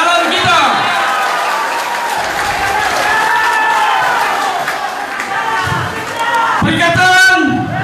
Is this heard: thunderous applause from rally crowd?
yes